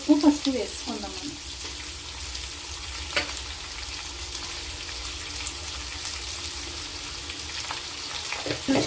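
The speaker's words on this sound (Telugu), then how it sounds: "ఇవి కూడా నూనెలో వేపేసుకుందాం" Onions and green chillies fry in oil for an anapakaya (bottle gourd) curry, making a steady, even sizzle throughout with a few light stirring knocks near the start, close by and moderately loud.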